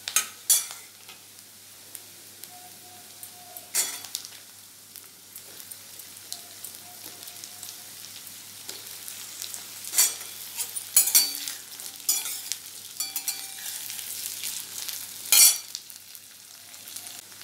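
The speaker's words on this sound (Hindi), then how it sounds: "अभी इसमें आलू को भी फ्राई करेंगे" Potatoes and onions frying together in a pan with spices for a mixed vegetable dish: a quiet continuous sizzle broken by repeated spatula scrapes and clinks at irregular intervals, close and alone without talk.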